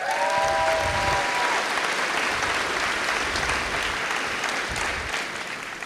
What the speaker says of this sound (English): Please join me in a round of applause as I say each student's name.